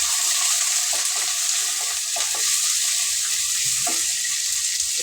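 Chopped big onions and curry leaves fry in a pan for a dried fish rasam, making a loud, steady, close sizzle throughout with faint stirring knocks underneath and no speech.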